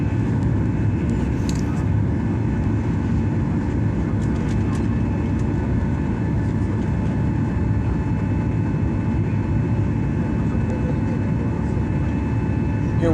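Cabin noise from an airliner flying over Denmark on approach to Copenhagen: a constant, dense engine and airflow roar that holds steady throughout, with faint brief rustles near the start.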